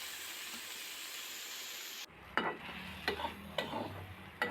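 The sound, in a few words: stir-frying chopped pointed gourd in a pan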